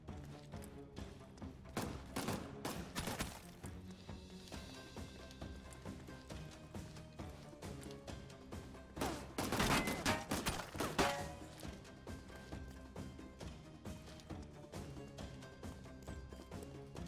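Gunfire and crashing impacts in the video game Sherlock Holmes Chapter One, with dense bursts of shots and thuds over a continuous game soundtrack, loudest in a cluster near the middle.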